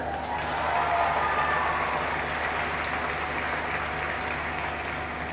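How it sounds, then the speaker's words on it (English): Crowd applauding and cheering at a ladies Gaelic football intermediate final celebration, a dense, sustained wash of clapping that peaks early and then holds steady throughout. "So I want to give a big cheer for Graham as well."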